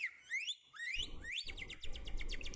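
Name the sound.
device mimicking bird calls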